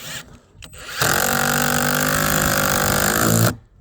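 A Dnipro-M 12-volt cordless screwdriver drives a screw into an oak board, giving a few faint clicks and then a loud, steady motor whine of about two and a half seconds that stops abruptly, heard up close with no talking.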